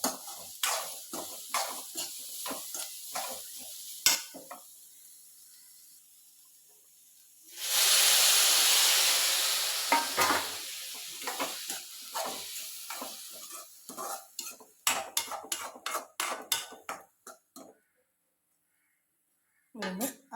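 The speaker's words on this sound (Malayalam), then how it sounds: "ഒരു ശകലം വെള്ളം ഒഴിച്ച് ഒന്ന് ആവി അടിച്ചാൽ മതി ഇതൊക്കെ വെന്ത് കിട്ടാനായിട്ട്" A burst of steady hiss and sizzle rises as a little water hits a hot pan of jackfruit seeds, fading out under clinks of utensils and stirring, and someone talks before and after.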